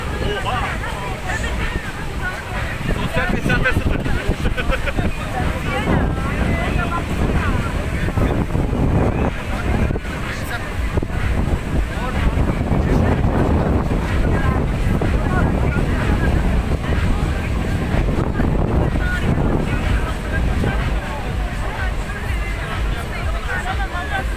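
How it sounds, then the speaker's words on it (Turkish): The Düden waterfall pours down in a loud, continuous broadband roar, with gusts of wind buffeting the microphone and people's voices and laughter mixed in over the rushing water. "Düden şelalesi böyle dökülüyormuş yani."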